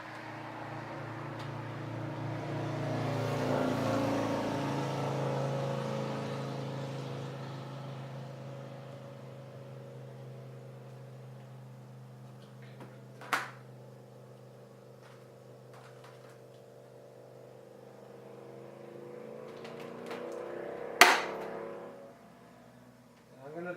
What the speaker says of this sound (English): So I'm just going to drill another hole.